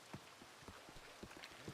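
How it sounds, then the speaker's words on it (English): Steady rain falls outside, a soft broadband hiss with scattered faint drops and taps, quiet and continuous through the short stretch. "raining outside"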